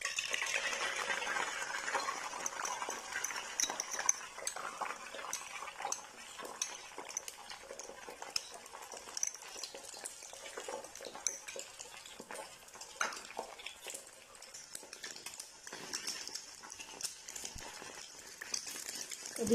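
A spoon works through two beaten eggs in a pan with cooking oil, making continuous close scraping and clinking against the metal under a faint sizzle, with no voices.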